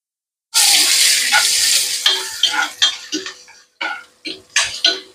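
Ginger hits a hot pan and bursts into a loud, bright sizzle, followed by a series of clinking stirs and scrapes as the sizzling continues close by, with no talking.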